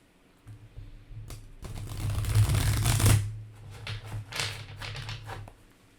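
A deck of playing cards is shuffled up close: a few light taps, a long dense riffle, then a string of quicker, softer riffles and flicks that die away.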